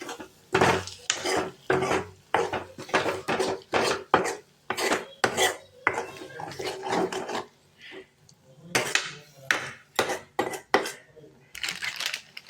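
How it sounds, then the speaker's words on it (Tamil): Egg podimas being stirred in a pan, a spoon scraping and rasping against the metal in repeated strokes that come in bursts with short pauses, close and fairly loud. "இப்போ நல்லா கிளறி விட்டுக்கோங்க ஃப்ரெண்ட்ஸ்."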